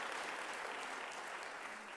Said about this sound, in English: let's give them a round of applause for having done all this work.